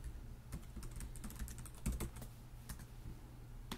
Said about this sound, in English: I'm going to type in a website that I know has a problem so I can show you how it works